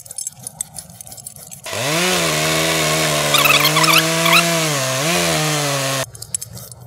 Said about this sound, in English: This is a little larger of a cut than I would normally make with a handsaw.